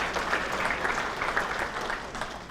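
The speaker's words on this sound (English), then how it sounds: "And a round of applause as well, please, for Brian Ouellette and Woburn Public Media" Audience applause at a hall of fame induction ceremony in Woburn, a steady, dense clapping from a crowd filling a hall, moderately loud and sustained without talk.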